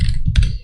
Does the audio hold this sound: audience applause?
no